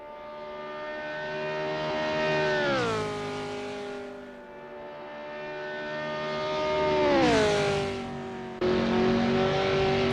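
Several 1969 Formula 5000 race cars from Assetto Corsa, racing at the Oesterreichring, rev loudly as their engine pitch rises and falls through gear changes. The roar swells twice as cars pass close by, and no one speaks.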